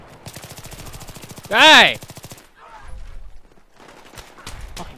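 Big gun fire in the video game Battlefield 3 on the Karkand conquest map, heard as a rapid rattling burst up front with a short loud blast, followed by quieter in-game noise while someone shouts briefly.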